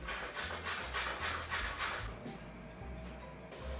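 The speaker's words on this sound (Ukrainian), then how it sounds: "Натираю на крупній терці бурякові" Rough, rhythmic scraping strokes of carrots being grated on a coarse grater, about a stroke every third of a second, close up, then slower rasping.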